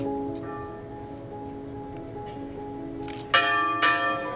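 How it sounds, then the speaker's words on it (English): The Mental Health America bell, a cast bell whose shackles and chains are its symbol, rings with a sustained humming tone, then two bright loud strikes come near the end. "During the event, we ring the mental health bell, Mental Health America's symbol"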